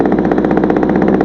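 An ASM Pitts model aircraft engine running steadily at idle, a close, loud, continuous buzzing drone with a fast regular pulsing and no talk.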